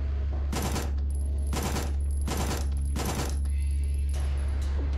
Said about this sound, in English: Got 15 rounds left in the submachine gun.